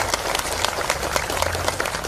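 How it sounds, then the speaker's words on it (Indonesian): Dense crowd applause at an outdoor political rally, steady and fairly loud throughout with many overlapping claps and faint voices mixed in. "kita berikan tepuk tangan sebagai tanda terima kasih"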